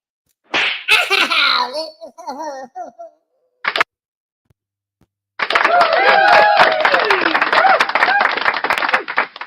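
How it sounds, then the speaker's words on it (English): Clapping from an unseen audience starts partway through and continues steadily to the end, mixed with voices and tonal sounds, after a stretch of talk and a short pause. "why are they clapping?"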